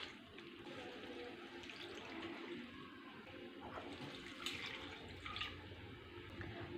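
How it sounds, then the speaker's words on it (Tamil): About three tumblers of water pour into a cooking pot holding washed thuthuvalai leaves and salt for soup. The splashing pour runs continuously and fairly faintly, with no one talking. "இது கூட 3 டம்ளர் போல் தண்ணி சேர்த்துடலாம்"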